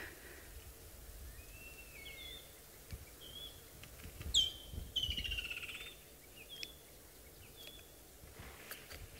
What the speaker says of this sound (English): But I think this woodland kingfisher actually drowns out all the other calls. It's so loud.